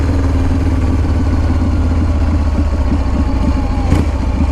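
A 2016 custom-built motorcycle idles up close, a loud, steady low rumble with an even, lopey pulse and faint mechanical clatter, running alone without talk.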